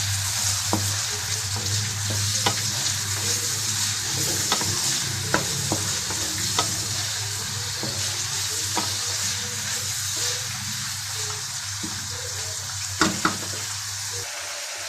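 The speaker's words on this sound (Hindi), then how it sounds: "देखिए व्यूअर्स, कितने अच्छे तरीके से बोटियाँ फ्राई हो रही हैं।" Meat pieces (boti) frying with onions in hot oil for a qorma, giving a steady, close sizzle for the whole stretch with occasional sharp spatters and scraping stirs, without any talk.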